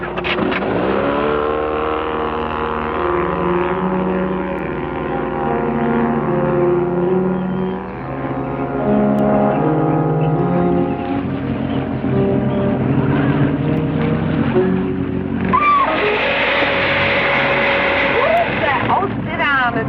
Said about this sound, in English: Start the motor, Vera. Head upstream.